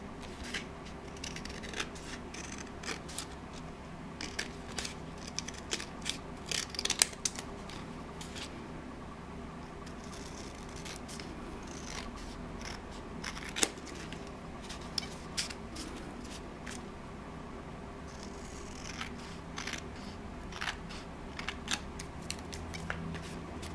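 Scissors trim a piece of paper card for a handmade journal card, giving faint, irregular snipping and rustling close by against a steady low background hum.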